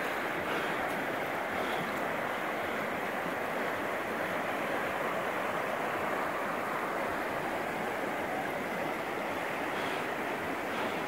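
A mountain river at high elevation rushes in a steady, dense roar of flowing water, constant and moderately near, with no voices over it.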